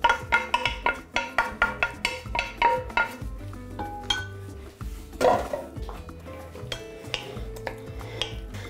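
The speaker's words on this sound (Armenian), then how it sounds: "Բազուկը լցնում ենք" Beetroot tipped into a pan over carrots and peppers, with a run of sharp close clinks and scrapes of utensil against the pan in a quick rhythm that thins out into scattered knocks and stirring.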